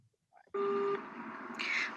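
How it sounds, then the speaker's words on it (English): A steady electronic beep tone cuts in sharply and holds for about half a second, signalling when to start answering in an interpreting test, followed by a brief noisy burst of higher tone. "beep के बाद ही बोलना है"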